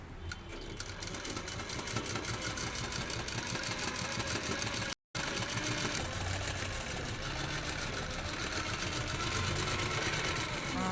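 A sewing machine runs steadily as it stitches a plain blouse, its fast rattling drone continuous and close for about ten seconds with one brief break midway.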